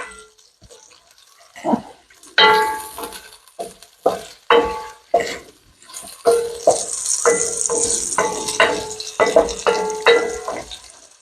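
Garlic, onion and red pepper flakes fry in a pan for escarole and beans, a sharp sizzle building under repeated stirring clatter, close and fairly loud.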